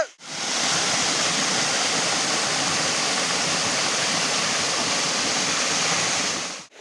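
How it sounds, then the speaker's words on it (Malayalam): Small waterfalls at Perepara dam pour in a steady, unbroken roar of rushing water, loud and close, with no talk or other sounds over the constant wash. "ഇതുപോലെ ചെറിയ ചെറിയ വെള്ളച്ചാട്ടങ്ങൾ കാണാം"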